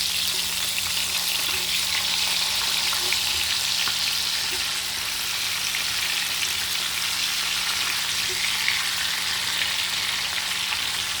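Tilapia pieces frying in hot oil in a pan give off a steady, dense sizzle with soft crackles. It holds evenly for the whole stretch with no one talking over it.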